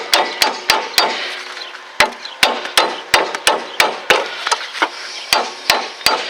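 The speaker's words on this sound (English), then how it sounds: "take a hammer and go ahead and hit this again." A hammer strikes a rusted tie rod end on a Dodge/Plymouth Neon, about twenty sharp metallic blows at a quick irregular rhythm, loud and close, with short ringing tails.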